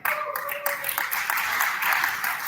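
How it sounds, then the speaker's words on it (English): An audience at the European Cyber Security Challenge breaks into continuous applause, a dense even patter of many hands clapping at fairly close range. "Applause for Austria."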